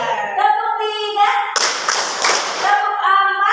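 Children in a classroom clapping game clap three times together in a short burst, framed by a woman's sung or called instructions before and after.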